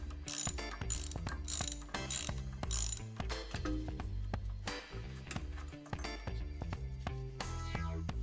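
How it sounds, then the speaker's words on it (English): A big ratchet wrench clicks rapidly while loosening the spark plug on a Columbia snowblower, making repeated bursts of sharp mechanical ticking, close and loud, with no speech. "you need a big ratchet like this. So we are going to take off the spark plug just like that"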